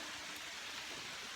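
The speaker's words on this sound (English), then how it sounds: "It's raining cats and dogs" Heavy rain falls steadily outdoors onto a makeshift tarp shelter strung over branches, a dense, even hiss of drops with no pauses, faint and continuous throughout.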